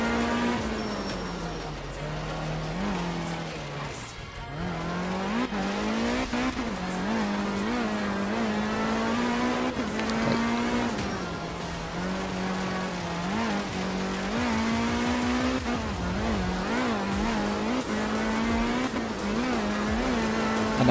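Group B rally car in art of rally on a dry Indonesia stage, engine droning steadily with rising and falling revs through gear changes, tires scrabbling on gravel, close and continuous throughout.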